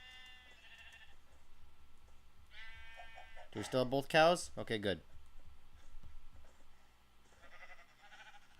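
Sheep bleat repeatedly in a farming video game, loud bursts in the middle of the clip with fainter calls before and after, while a person talks over them.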